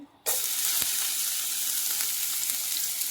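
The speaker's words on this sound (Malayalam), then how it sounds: "ഇപ്പോൾ കൊണ്ടാട്ടം വറുത്ത് കോരിയിട്ടുണ്ട്" Dried okra kondattam, Palakkad-style vendakka vattal, bursts into a loud, steady sizzle as it drops into hot coconut oil, crackling continuously at close range after a brief quiet start.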